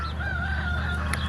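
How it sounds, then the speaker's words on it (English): A rooster crows once in a single sustained, wavering call, loud and close against a low steady background rumble. "Oh, little rooster."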